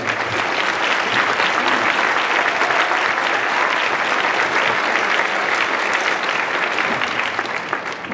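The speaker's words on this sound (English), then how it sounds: "get one more round of applause" A high school winter concert audience claps for the student soloists, a dense, loud round of applause that stays steady and close before easing slightly at the end.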